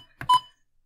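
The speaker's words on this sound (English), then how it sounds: "It does beep confirmation." Confirmation beep from a Vogurtime VT-09 mini piano kit, a short pair of electronic tones heard alone, close and clear, then silence.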